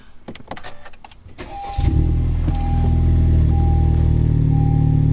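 A few clicks and a cranking whir, then a Honda Civic Type R engine with a newly installed turbo inlet pipe and MAF catches and settles into a loud, steady idle close by.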